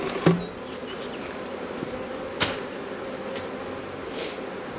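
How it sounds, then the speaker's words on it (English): Honey bees buzz steadily as they are shaken off a hive box, a close, continuous hum with a couple of sharp knocks from the box. "shake those bees off"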